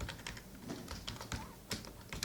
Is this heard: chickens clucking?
no